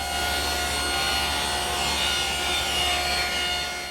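A router bit from a door maker's set cuts an ogee profile into wood molding, a steady loud whining rasp of bit on wood that holds without pause, with no talk over it.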